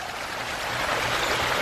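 Water spills and trickles steadily from the biofalls of a 25-year-old Aquascape ecosystem pond, a continuous close, even splashing wash with no voices.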